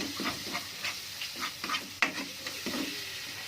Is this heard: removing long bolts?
no